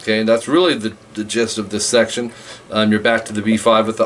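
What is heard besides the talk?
No everyday noise stands out behind the speech.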